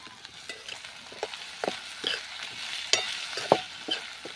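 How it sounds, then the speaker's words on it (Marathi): Spices such as Kashmiri red chilli and turmeric being stirred in a hot pan, with a soft steady sizzle broken by repeated short scraping strokes of a spoon, fairly close and with no voices. "आता परतून घेऊया."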